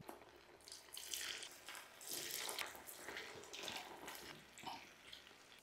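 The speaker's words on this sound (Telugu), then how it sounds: "ఇప్పుడు చూడండి, ఈ బాల్స్ స్లోగా ఫ్రై అవుతున్నాయి" Vegetable Manchurian balls frying in medium-hot oil, a continuous hissing, bubbling sizzle that swells and fades in waves, close and fairly quiet, with no talking.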